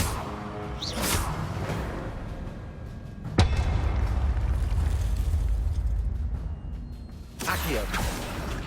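Confringo explosive spell cast in the Hogwarts Legacy video game, heard as a loud whooshing blast followed by sustained booming rumble, with further bursts toward the end.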